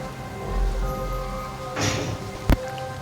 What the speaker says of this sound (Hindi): बिजली की गर्जन के साथ जोरदार बरसात हो रही थी